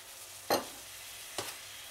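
Chicken with chili paste being stir-fried in a pan after a splash of water, two brief scraping stirs with a soft sizzle, close and otherwise quiet.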